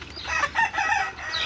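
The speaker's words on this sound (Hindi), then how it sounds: "ये हैं जी हमारी मुर्गी, बड़ी अंडे वाली मुर्गी जो अंडे देती हैं।" Desi hens on a poultry farm clucking and calling in a busy cluster of repeated, fairly close squawks and bursts, with no talking.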